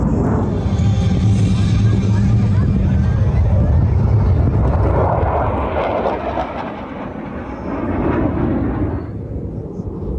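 A loud Blue Angels jet roars overhead at an air show, building to a broad rushing wash of noise and then fading, with wind buffeting the microphone and faint crowd voices.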